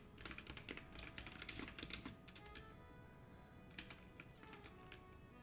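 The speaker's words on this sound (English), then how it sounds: "Sorry, typing it up for you." Fingers type on a computer keyboard in quick, irregular bursts of light clicks, close and quiet, with a short pause before a final flurry.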